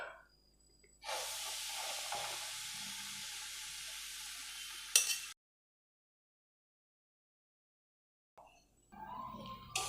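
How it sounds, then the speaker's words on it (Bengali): Semolina sizzles and hisses in hot ghee, about two spoonfuls heated in a pan, a steady close frying sound that breaks off into silence and then returns briefly. "ঘিটা গরম হয়ে গেছে, এখন আমি সুজিটা দিয়ে দিচ্ছি।"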